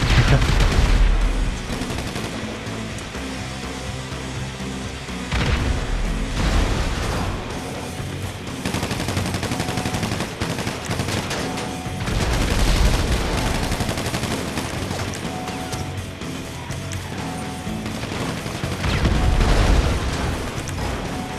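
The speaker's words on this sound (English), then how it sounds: "How am I being shot without any enemy shooting at me?" Gunfire and booming impacts fill a GTA 5 survival match, continuous rattling shots and heavy thuds mixed with game sound, loud and dense throughout, no talking.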